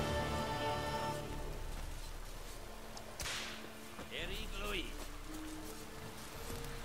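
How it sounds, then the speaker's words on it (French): Whip lashes crack in The Witcher III: Wild Hunt, a few sharp distant snaps heard through game ambience with a rain-like hiss and low rumble, while a person talks over the scene. "on entend les coups de fouet, mais on sait pas où."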